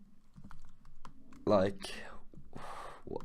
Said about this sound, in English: I click the backspace button on the keyboard